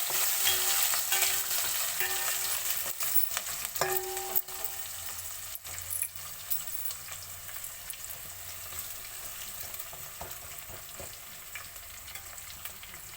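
Onions frying in oil with whole spices (cloves, cumin seeds and similar) for coconut rice: a steady crackling sizzle throughout, with occasional stirring clicks, close and fairly loud, no talking.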